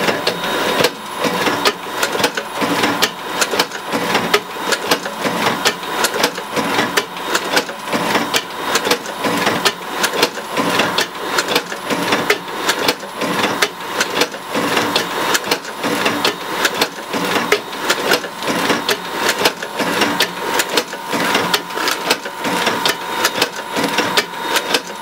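An MEP120 automatic CD disc sleever machine running, a steady mechanical clatter of rapid repeated clicks and whirring, continuous and fairly loud throughout with no voices.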